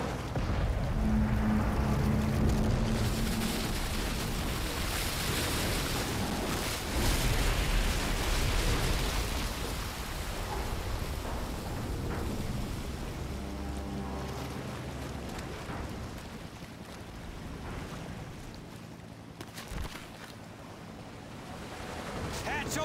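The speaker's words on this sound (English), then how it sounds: "Sub is surfacing." A submarine breaking the surface during a military assault, heard as a continuous loud rush of churning water, surf and wind noise across the whole stretch, with no clear talk.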